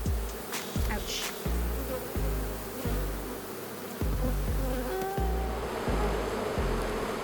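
Honey bees buzz densely and continuously close by during a springtime hive inspection, a steady droning swarm with individual bees zipping past and a regular pulsing thump underneath.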